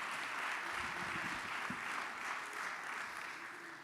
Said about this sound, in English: Clap for Steve.